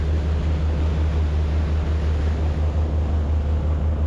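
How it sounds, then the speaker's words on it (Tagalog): A fast boat with two engines roars steadily and loudly from close by, a constant low droning hum with no breaks, and no talking over it. "Dalawa kasi ang makina nila kaya ang bilis."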